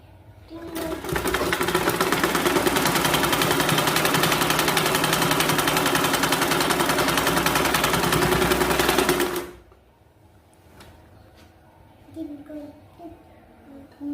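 A sewing machine stitches a length of fabric in one steady, loud, rapid run lasting several seconds, then stops abruptly, leaving faint handling noises and a voice speaking.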